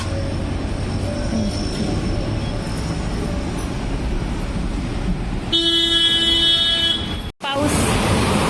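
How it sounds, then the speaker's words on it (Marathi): Vehicle horns honk on a rainy Mumbai street, with one long loud tonal blare rising over steady hiss of rain and traffic, then cutting off abruptly. "गाड्यांची पॅ पॅ"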